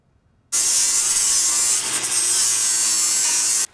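A cutting disc slices through metal while a BBQ smoker is being built: after a moment of near silence, a loud, harsh, continuous grinding rasp runs steadily for about three seconds, then stops abruptly.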